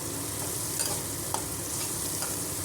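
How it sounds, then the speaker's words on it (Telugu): Onions frying and being stirred in a pan for boiled egg curry, a steady close sizzle with soft scraping stir sounds throughout, no talking. "కొంచెం ఫ్రై అవ్వాలి ఆనియన్."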